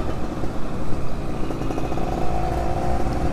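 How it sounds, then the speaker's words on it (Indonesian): Exhaust of a turbocharged Yamaha V80 motorcycle fitted with an aftermarket muffler from Jogja, a steady, loud, close engine drone with rumbling low-end pulses throughout. "Ini knalpotnya enak banget ternyata"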